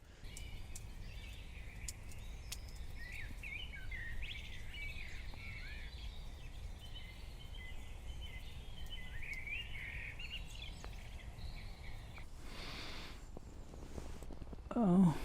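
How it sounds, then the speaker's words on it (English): Several birds chirp and sing faintly at a distance in the early dawn chorus around a tarp camp at about 3:30 am, steady calls over a quiet outdoor hush, with a brief louder rustle near the end. "You can hear some birds now."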